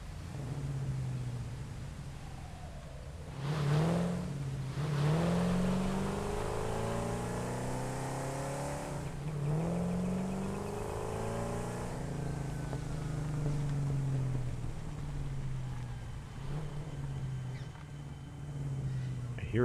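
Vehicle engine in the Satisfactory video game, a steady drone with low harmonic bands and a few rising revs, running continuously throughout while a person talks over it.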